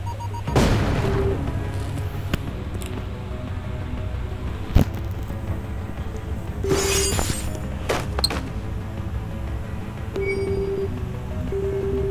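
A bomb goes off in Guardian Tales amid a busy game soundscape, with several deep booms and sharp impacts scattered over a constant rumbling background, plus short chiming pings.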